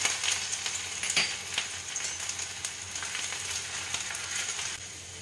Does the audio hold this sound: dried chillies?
yes